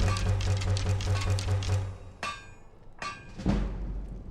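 Forging shock bolts at a smithing forge in Skyrim: a run of rapid, even metallic hammer strikes over a low drone, then a pause and two sharper clangs, each followed by a fading ring.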